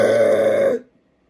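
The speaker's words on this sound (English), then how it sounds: "I told you I could burp your name." A single loud, drawn-out burp close to the mic, lasting under a second with a voiced, tonal quality before cutting off into silence.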